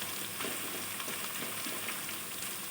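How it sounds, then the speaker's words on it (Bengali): Potatoes fry in hot oil in a pan, giving a steady, close, continuous sizzle with fine crackling and no pauses. "তো দেখো আলুগুলো কিন্তু খুব সুন্দর করে আমি ভেজে নিচ্ছি"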